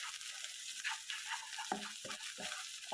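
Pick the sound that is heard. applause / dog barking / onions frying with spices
onions frying with spices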